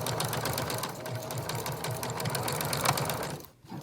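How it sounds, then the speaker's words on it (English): A sewing machine runs a steady zigzag stitch along a fabric cat ruff, a close, fast, even mechanical whirr that stops abruptly near the end. "individually we're going to stitch along here with that same zigzag stitch"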